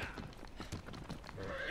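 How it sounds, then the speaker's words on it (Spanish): Horse in the video game Shadow of the Colossus, quick clip-clop hoofbeats of a gallop running throughout, then a whinny rising near the end, all at moderate loudness with no talk. "Ahí está mi caballo. Vámonos épicamente."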